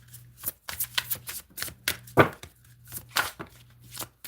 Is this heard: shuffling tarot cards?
yes